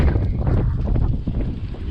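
Strong wind buffets the microphone at an indoor skate spot in Albuquerque, New Mexico, with a loud, continuous low rumble and gusty roar throughout.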